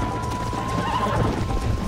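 A horse in the Western video game Red Dead Redemption whinnies and gallops with clip-clop hoofbeats, moderately loud over a steady game soundscape.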